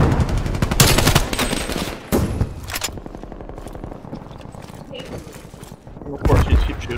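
Rapid bursts of gunfire in an online team shooter match. Loud automatic fire clatters at the start and again near the end, with a quieter stretch of faster shots between. Players talk over it.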